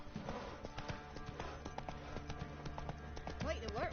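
Horse hooves clip-clop at a steady gallop in The Witcher: Wild Hunt, a rhythmic run of soft thuds close by with game music and a brief voice-like sweep near the end.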